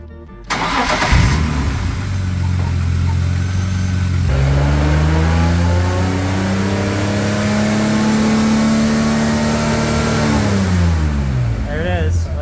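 A BMW engine with VANOS cranks to life, then rises and falls in long revving sweeps during a gas pedal test, loud and close, with someone speaking over it.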